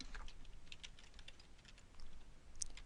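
Computer keyboard typing at a desk while entering a calculation in data collection software: a quiet, steady run of light key clicks close by, with no talk.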